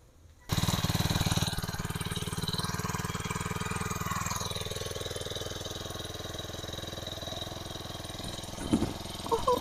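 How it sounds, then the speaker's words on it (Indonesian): A grass-cutting machine's small engine starting abruptly and running at a loud, steady buzzing idle close by, with a revving sweep early on and a few clanks near the end. "ayah mau ngetes mesin rumput ya hati-hati ya"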